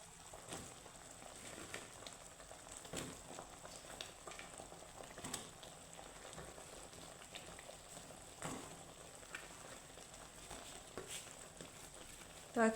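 Fried gaja sweets simmer in sugar syrup, giving a faint, steady bubbling crackle with occasional soft pops that stays low and even until a brief louder knock at the end.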